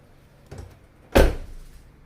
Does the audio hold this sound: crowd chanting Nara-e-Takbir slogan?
no